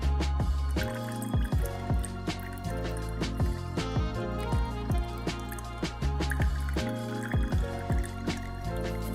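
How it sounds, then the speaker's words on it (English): Blood orange juice is strained into a cocktail glass, giving repeated drips and small liquid splashes over tonal background music. "Now I'm gonna strain my juice."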